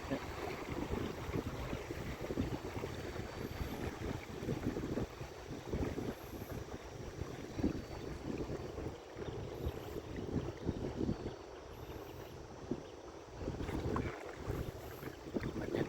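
Morning wind buffeting a microphone on a small boat on the Mekong River, a steady rough rumble with gusty swells and faint water movement underneath, no talking.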